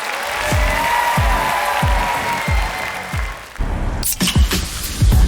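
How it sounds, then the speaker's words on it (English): Audience applause for beauty pageant finalists and contestants leaving the stage at the Miss Hooters International Pageant in Lake Tahoe, Nevada, steady and fairly loud over a thumping music beat that swells near the end. "Let's show our appreciation to these amazing finalists and contestants as they head off stage. Give them a round of applause."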